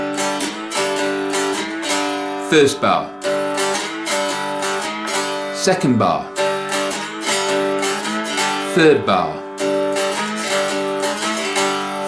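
A mountain dulcimer played with a slide rings out a twelve-bar blues line, with steady strummed chords and a sliding glide in each bar, while a voice calls out the bar numbers.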